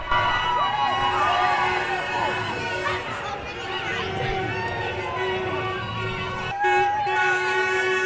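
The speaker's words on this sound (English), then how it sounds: "And we got a cheer now from Balbriggan Rugby Club." Crowd of Balbriggan Rugby Club members cheering at a St Patrick's Day street parade in Balbriggan, a steady dense roar of voices with chatter and street noise throughout.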